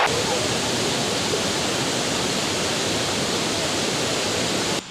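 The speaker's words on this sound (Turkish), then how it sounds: "Büyük şelalenin yanındayım." Loud, steady roar of a large waterfall at Yedigöller, Turkey, a continuous rushing wash of falling water filling the whole clip.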